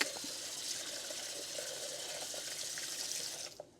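Water runs steadily from a restroom faucet in a continuous hiss, then cuts off abruptly near the end.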